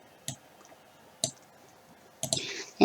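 A computer mouse clicking during spreadsheet work, three sharp close clicks spaced about a second apart, the last followed by a brief scraping drag sound, over a quiet background.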